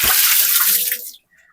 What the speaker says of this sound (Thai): เอาหมวกเลยมาตักน้ำ